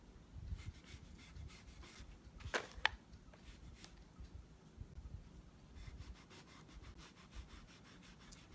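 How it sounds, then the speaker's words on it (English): A cloth rubs back wet gray paint over wooden edges and corners while wet distressing, giving faint, repeated soft scrubbing strokes with a couple of sharper scuffs, alone and quiet. "just wipe back a little bit so the gray shows through"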